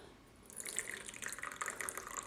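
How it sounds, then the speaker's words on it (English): Tea poured from a pot into a cup as an English afternoon tea is prepared: a steady, close liquid trickle and splash that rises after a quiet start and keeps flowing, with no talking. "the tea and then they pour"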